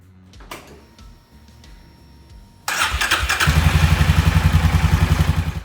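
A Can-Am Outlander 500/700 ATV engine cranks with clatter, then catches and settles into a steady, loud, pulsing idle nearby. Softer mechanical clicks and handling noise come first.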